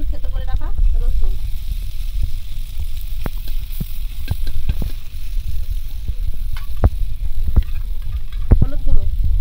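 Raw chickpeas go into browned onions frying in oil, giving a steady close sizzle with scattered clicks and scrapes of stirring throughout.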